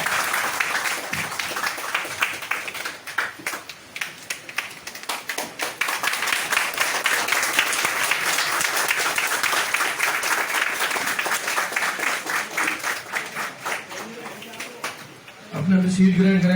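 Audience clapping at a Suncity Solar business webinar in Balotra, a sustained round of many hands that swells and lasts about fifteen seconds, with speech breaking in at the end.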